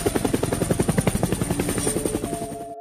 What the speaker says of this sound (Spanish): creo que es un helicóptero, salgamos a ver qué ocurre